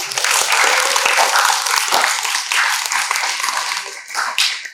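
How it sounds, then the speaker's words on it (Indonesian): Audience clapping for guests at an Indonesian Ramadan talk event with SMKN 3 alumni, a burst of close, dense hand claps and cheers that swells and dips over a few seconds. "Tepuk tangan dulu dong sekali lagi"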